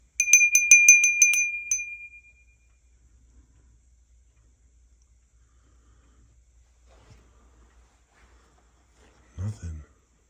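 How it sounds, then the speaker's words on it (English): A small bell inside an antiques mall rings in a quick run of bright, repeated strikes that fade into near silence, and a short burst of voice comes at the end. "I heard you like this bell."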